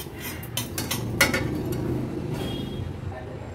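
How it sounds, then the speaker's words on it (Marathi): Poppy seeds dry-roast without ghee in a kadhai over a low flame, with a spoon scraping and clinking against the metal in short, irregular strokes, fairly close. "तूप न घालता सुरुवातीला मी ही खसखस अगदी 2 ते 3 मिनिटांसाठी लो फ्लेमवर अशीच भाजून घेते"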